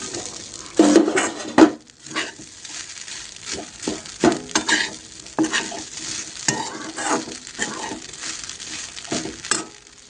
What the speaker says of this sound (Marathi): शेंगदाण्याचं कूट छान असं भाजलेलं आपण शाबुदाना घालून घेऊया